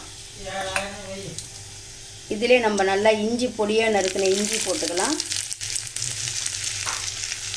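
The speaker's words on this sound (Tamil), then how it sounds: "இது நல்லா பொரியட்டும் நல்லா பொரிஞ்சிடுச்சு" Steady sizzling of spices and cashews frying in hot ghee for ven pongal, close and continuous, while a person talks over it.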